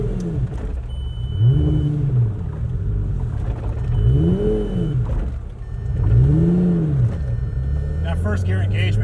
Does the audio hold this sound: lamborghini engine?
yes